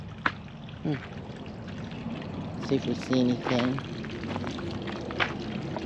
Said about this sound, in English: They have water features here.